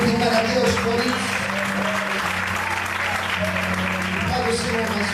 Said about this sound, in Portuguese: Você pode aplaudir e glorificar a Deus por isso